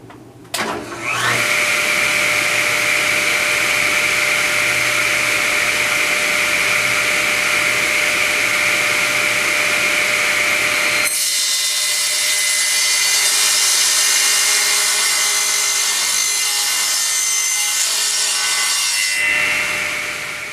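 A table saw cutting lengths of material for a reptile tank cover, a loud continuous whining blade with a harsher, brighter tone while the cut goes through, then running on after the cut, close and without talk.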